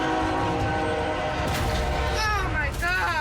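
A train crosses a road at a level crossing during a police car pursuit, with a steady, loud, close rumble of wheels and cars that fills the whole moment, while voices talk over it.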